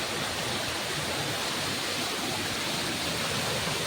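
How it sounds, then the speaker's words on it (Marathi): Steady broadband roar of a waterfall, water pouring down beside a stream where crabs are being caught, dense and continuous throughout with no voices. "तेवढा हा बघा मोठा मस्तपैकी पाणी बघा धबधब पडचा"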